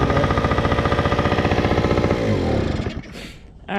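A Yamaha PW80 dirt bike's small two-stroke engine revs hard while riding, a loud, near, rapidly pulsing buzz that holds steady and then drops off as the throttle closes.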